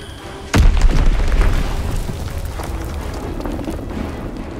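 An Azon bomb blast in the video game Call of Duty WWII lands as a sudden deep boom, followed by a rolling, rumbling tail that slowly fades into lingering battlefield noise.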